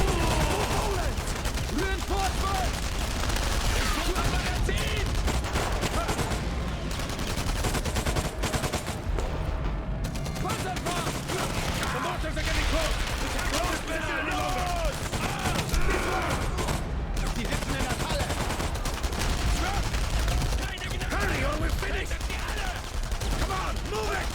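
Rapid bursts of Polish BAR automatic fire in 8mm Mauser, a pistol-gripped variant, crackle loud and nearly continuous through the Warsaw Uprising battle in Enemy Front, with other weapons and voices mixed under the din.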